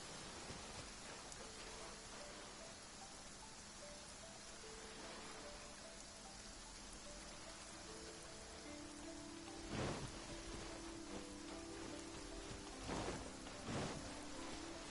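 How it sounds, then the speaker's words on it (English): Steady rain in the video game Genshin Impact hisses evenly throughout, with a few soft low rumbles near the end. "I don't like the rain."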